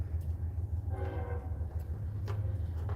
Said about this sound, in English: Oh, I heard a train. CSX coming by.